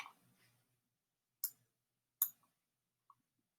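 Computer mouse clicks: faint low mumbling fades out, then three sharp, close clicks come alone at irregular intervals in a quiet room, the last one softer.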